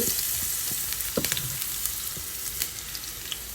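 Garlic hits hot oil in a pan for a vegetable and small prawn stir-fry, giving a close, crackling sizzle with scattered sharp pops and spits over a steady hiss.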